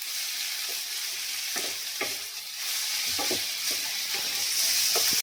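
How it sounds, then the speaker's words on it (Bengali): Ingredients for a spicy Indian-style gravy pasta fry in a pan under a steady sizzle. Repeated scraping strokes of a spatula stir through it in an uneven rhythm. "হালকা ভাজা হয়ে গেছে"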